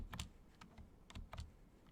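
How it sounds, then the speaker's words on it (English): Keys on a computer keyboard are pressed in a quick, quiet handful of clicky taps, close up and alone, with no talking. "press B on the keyboard"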